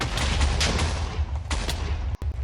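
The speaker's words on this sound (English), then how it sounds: "you get a forward explosion when not sneaking and right clicking, and a backward explosion to send you flying" Explosion power from a Minecraft superpowers datapack, a rapid series of loud, booming blasts rolling into one another with no talking.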